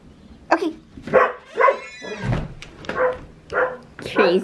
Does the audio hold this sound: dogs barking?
yes